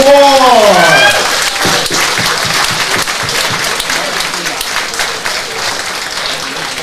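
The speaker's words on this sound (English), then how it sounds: "would you give a huge round of applause to MacTaggart Scott, Patrick Ward!" A crowd at a boxing club home show applauds a boxer with steady, dense clapping that runs through the whole stretch. It is loud at first and eases slightly, with an announcer's voice ringing out at the start.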